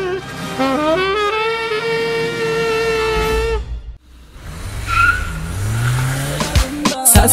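A car accelerates hard with squealing tires: a loud, rising engine whine for several seconds, a brief drop, then renewed revving and tire screech that ends in sharp bursts.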